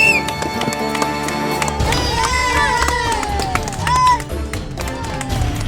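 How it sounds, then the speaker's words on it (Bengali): A crowd of children at a ball-arranging game claps and cheers for a young contestant, a busy mix of rapid claps, shouts and excited voices, loud and close throughout, with people talking over it. "ওর জন্য একটা জোরে হাততালি"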